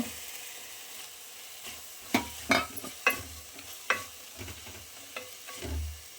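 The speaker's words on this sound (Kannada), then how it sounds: "ಈಗ ಇದು ಎಣ್ಣೆಯಲ್ಲಿ ಸ್ವಲ್ಪ ಹೊತ್ತು ಬೇಯಬೇಕು" Dry fish, already pan-roasted and washed, fries in oil for a mango curry. A low steady sizzle runs under irregular scraping and clattering stirs of a spoon in the pan, heard close with no talking.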